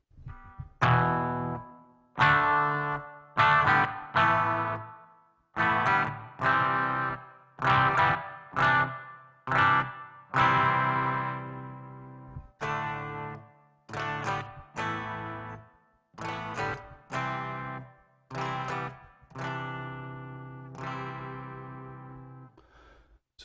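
Electric guitar through a Blackstar HT-5 amp with a noise gate, MXR pedal and reverb, played as a series of distorted strummed chords and short phrases, each cut off sharply between bursts, loud and close with no talking.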